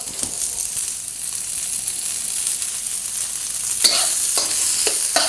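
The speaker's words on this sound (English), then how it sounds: "So half a cup of frozen peas. Start to cook that up." Frozen peas fry and crackle in a hot pan for pork fried rice, a steady close sizzle with a few sharper stirring scrapes near the end and no talking.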